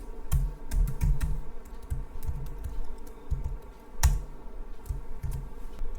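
C code is typed on a computer keyboard at close range, a quick, steady patter of key clicks with a few louder strikes, over a low background hum and no speech.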